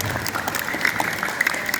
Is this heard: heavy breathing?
no